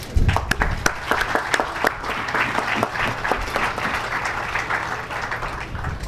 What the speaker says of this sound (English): Please applaud Assistant Superintendent Seeley